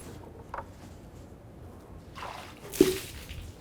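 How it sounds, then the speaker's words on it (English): Water wiped by hand across a flat ash wood slab: a short wet swish, then a longer smearing wipe ending in a soft squishy slap, close and fairly quiet. "Get a little water on here to show you guys."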